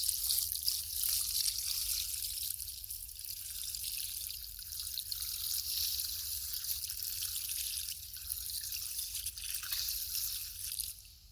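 Water trickles and splashes steadily into a garden frog pond as it is topped up, a close, continuous bubbling dribble with slight surges and no voices over it.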